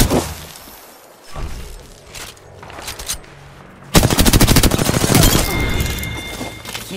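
Gunfire in the video game Apex Legends. A few scattered shots and impacts open the scene, then a loud, sustained burst of rapid automatic fire takes over for the second half.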